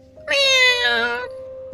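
A cat gives a single drawn-out meow, close and clear, rising then tapering over about a second, in an animated drama against a quiet background.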